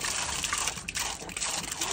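Water gushing from a public water spout, a continuous close splashing rush with fluttering, bubbly texture, fairly loud and steady throughout with no voices.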